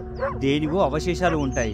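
A dog barks sharply a few times in quick succession, yelping close by, mixed in with a narrating voice speaking over it.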